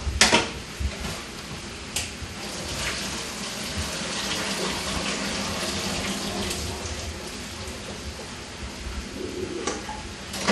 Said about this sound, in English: We're ready to drain it.